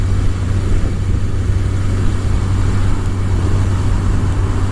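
A motorcycle engine runs at 2,500 RPM in second gear with a steady, loud low-pitched drone and road noise. The note stays even throughout.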